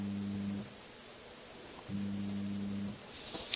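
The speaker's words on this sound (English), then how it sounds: "A sine wave is much softer" A pure sine wave tone from a physics-of-music demonstration sounds twice, a soft, smooth low hum lasting under a second and then about a second, separated by a quiet gap, with no talking.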